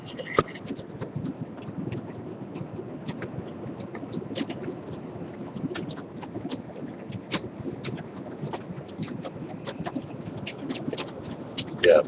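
Pea-sized hail falling outdoors during a thunderstorm, heard as a steady scatter of sharp, irregular taps and ticks over a faint hiss, fairly quiet and without voices.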